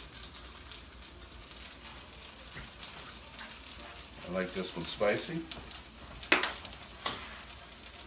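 Garlic and crushed red pepper flakes sizzle and crackle steadily in hot oil nearby, with a brief spoken comment over the frying and a few louder pops.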